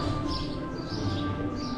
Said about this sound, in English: You can hear all the birds and everything.